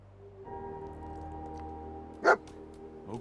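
Dogmeat, the dog companion in Fallout 4, gives a single short bark near the end, set against a steady low game ambience with a faint second yelp just after.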